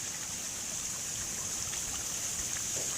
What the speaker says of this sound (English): Now we'll go to the fish pond, which is such an oasis of serenity, the sound of the water.